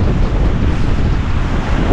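Strong northeast amihan wind blows at Casapsapan Eco Park beach, a loud steady roar of wind buffeting the microphone mixed with surf.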